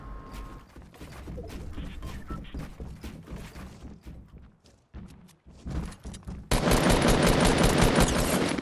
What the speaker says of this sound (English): I'm getting shot from the back.